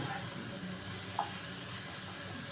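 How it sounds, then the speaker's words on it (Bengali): Onion and spices sautéing in a pan for Dhoka Dalna, a Bengali lentil-cake curry, give a steady, soft sizzling hiss with a single brief clink partway through. "দেখুন এরকম কষানো হচ্ছে এটা আর একটু কষানো হবে"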